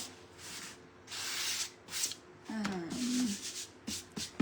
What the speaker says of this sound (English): sometimes I'll take my little sandpaper here